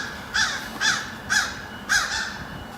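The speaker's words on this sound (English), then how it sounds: "You hear the crows? One there, one there." Four harsh crow caws at a steady, even pace, clear and moderately close over faint outdoor background noise.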